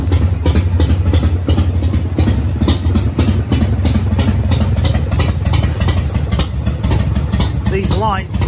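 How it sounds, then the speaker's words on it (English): A 1993 Harley-Davidson FXSTS Springer Softail with an Evo V-twin runs steadily, its loud, close engine throb continuing throughout while someone talks over it. "You can hear the classic Evo sound."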